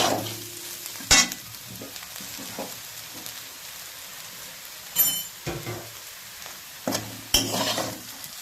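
Okra spiced as masala bhindi fries in a pan with a low sizzle, broken by sharp spatula clanks and scraping bursts at irregular intervals.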